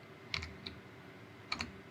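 Computer keyboard typing a short command, a few quick key clicks in two brief bursts separated by a pause, close and fairly quiet, no voices.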